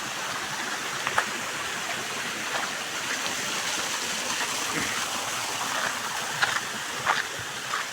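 Water streams down from above in a village setting, a constant rushing wash with faint splashes, steady and moderately distant, no talk.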